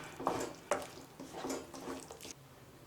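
Chickpeas are stirred into a gravy mixture with a few soft, wet scrapes and clicks of a spoon against the vessel, faint and close.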